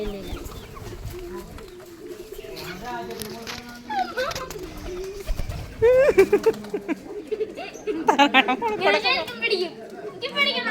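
Pigeons coo and flutter close by during informal handling at home, under near-constant chatter from adults and a child, with a few louder bird calls and wingbeats rising in the second half.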